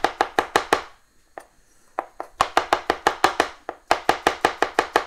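A kitchen knife finely slices mushrooms on a cutting board for carbonara: rapid, crisp, close chops in quick runs, broken by one brief pause and a few slower cuts, with no talking.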